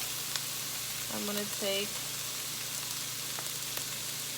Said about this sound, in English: Alright, we are sizzling here.